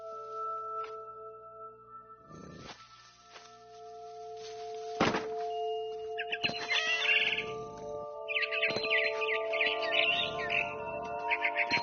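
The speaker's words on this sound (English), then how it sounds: "Then I heard chirping outside my window. It was a barn swallow going back to her nest." Bright, electronic-sounding barn swallow chirps from the video game What Remains of Edith Finch come in short bursts toward the end, mixed with soft thuds and steady synthetic tones.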